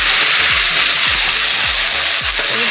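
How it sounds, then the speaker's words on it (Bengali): Mashed green peas with asafoetida fry in hot oil, a steady close sizzle with repeated soft scraping stirs roughly every half second. "ভালো করে এটাকে ভেজে নিচ্ছি আমি আগে"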